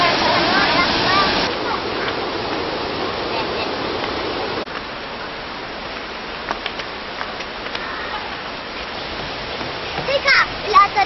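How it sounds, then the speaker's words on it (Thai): A waterfall roars loudly as a dense, rushing wash of falling water, then drops to a softer, more distant flow, with a few splashes and brief voices near the end. "เราจะดูน้ำตกเนี่ยนะคะ"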